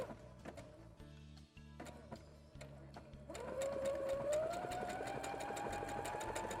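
A sewing machine stitches a fabric house-shaped cushion, with short start-stop bursts of rapid mechanical chatter at first, then a longer continuous run with a rising motor whine, close and clear.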